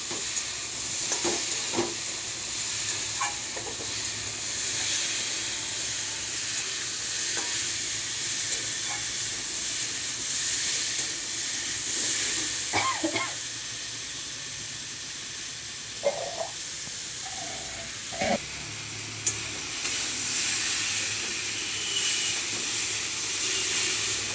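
Mixed vegetables fry in oil for a sour curry, giving a steady close sizzle and hiss with occasional clinks and scrapes of stirring, and no one speaking.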